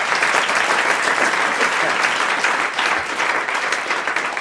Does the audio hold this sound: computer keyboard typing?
no